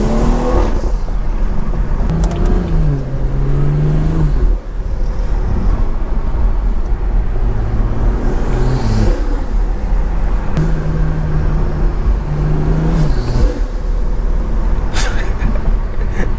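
A tuned BMW 340i engine revs repeatedly in loud, rising and falling swells, with crackling burbles between the pulls, close and continuous throughout.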